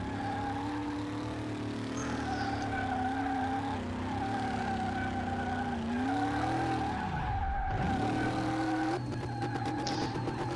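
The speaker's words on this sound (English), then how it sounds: "How many cars do you burn out in reverse?" A 1000-horsepower Spectre car does a reverse burnout, its engine droning steadily under continuous loud tire skid and squeal, dipping briefly into a deep rev drop before howling back up.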